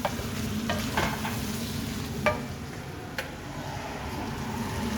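A spoon stirs chopped vegetables into a cooked meat curry in a pan, with a steady sizzle under occasional sharp scrapes and knocks against the metal and no voices.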